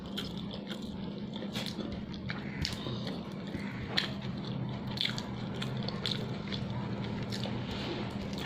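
Soft, wet chewing and squishing of rice mixed with fish, fish-egg fritters and bitter gourd, with small clicks and moist smacks at an uneven pace, close and quiet over a low background hum.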